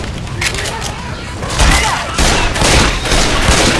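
Left 4 Dead 2 video game gunfire, a dense rapid burst of loud cracking shots with booms, continuous for several seconds, with a voice in the mix.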